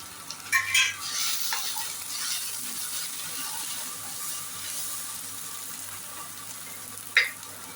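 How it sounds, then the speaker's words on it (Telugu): Garam masala, coriander, cumin and a little pepper powder frying in a pan, with a soft steady sizzle and a few sharper scraping stirs near the start and near the end, no voices. "గరం మసాలా పౌడరు, ధనియాల పొడి, జీలకర్ర పొడి, కొద్దిగా మిరియాలు వేసుకొని వేయించుకోవాలి"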